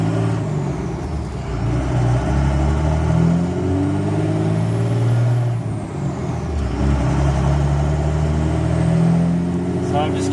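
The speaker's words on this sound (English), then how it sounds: "So I'm just driving up this road now" An early-2000s Cummins diesel pickup driving up a road, heard from inside the cab as a loud, steady low engine drone that rises and dips slightly as it pulls, with faint cabin noise on top.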